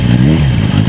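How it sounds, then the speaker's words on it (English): A Kawasaki Versys 1100 SE motorcycle engine idles with a brief, rumbling rev, a deep throaty exhaust heard up close and loud. "the exhaust sounds quite nice. I give it a little rev"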